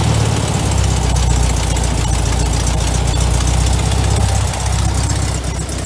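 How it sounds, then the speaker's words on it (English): An old carburetted engine, untuned for about fifteen years, runs on fast idle with a loud, steady, slightly rough rumble and no pauses. "God, this carb doesn't like to idle. Running on fast idle."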